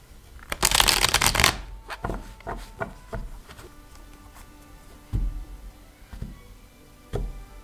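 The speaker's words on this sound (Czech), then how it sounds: "Já si tady budu chvilinku teď míchat karty" Tarot cards are shuffled by hand, with a loud, dense flurry of riffling near the start followed by scattered softer taps and card slaps, close-up and alone.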